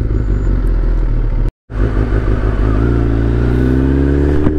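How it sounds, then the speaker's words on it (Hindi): A 2018 Kawasaki ZX10R 1000cc litre-class superbike engine revs loudly at close range. The sound breaks off for a moment, then returns with a rising, whining rev toward the end. "लीटर क्लास सुपर बाइक है ये, 1000cc ZX10R 2018"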